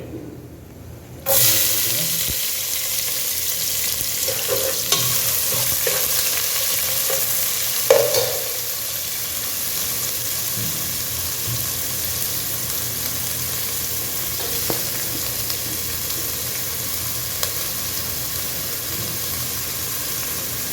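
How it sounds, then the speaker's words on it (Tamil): Cumin, fennel, fenugreek and green chilli sizzle in hot oil for a village-style fish head curry, a steady loud frying hiss that starts abruptly and runs throughout with occasional stirring clinks. "இதெல்லாம் போட்டாச்சு சீரகம் சோம்பு வெந்தயம் பச்சை மிளகா எல்லாம் போட்டு"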